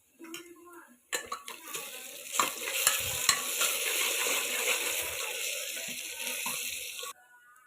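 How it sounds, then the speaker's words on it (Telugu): Ginger-garlic paste frying with onions in a pan: a steady loud sizzle with spatula scrapes and clinks, starting after a brief quieter pan sound and cutting off near the end. "అల్లం పేస్ట్ వేగిందండి."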